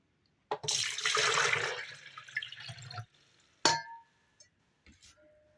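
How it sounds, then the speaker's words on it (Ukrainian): Water gushes and splashes into a Milano KT-3002 W electric kettle for a few seconds, then stops; brief clanks and a short trickle follow. "самі ось послухаєте, наливаю водички"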